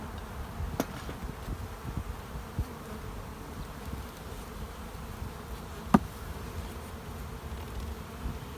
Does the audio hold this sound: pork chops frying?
no